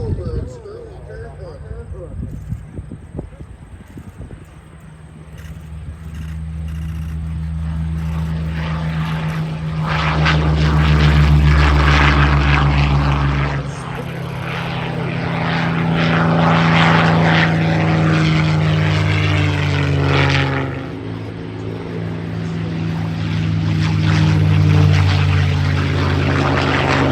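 Propeller aircraft flying a victory flight at the Gatineau-Ottawa airshow, droning engines that swell and fade as they pass, loud and near, with an announcer speaking throughout.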